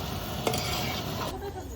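Potatoes fry in a pan with a steady close sizzle, broken by a brief scrape of stirring.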